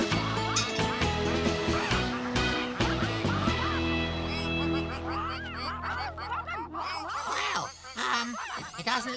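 Cartoon ducks quack and honk in a busy burst over a musical score in a children's animated show, several calls overlapping in the foreground while tones and effects continue underneath.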